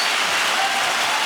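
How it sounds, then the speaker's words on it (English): A dense burst of clapping, like a recorded applause effect on a podcast, fills the moment loudly and evenly without pause or talk. "I gotta give them some clap"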